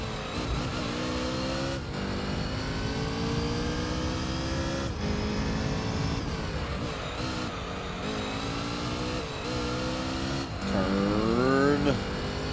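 Race car engines from the Gran Turismo 3 video game, a Supra and a GTR battling in a Japan GT championship, whine and rise in pitch through gear changes while someone talks over them.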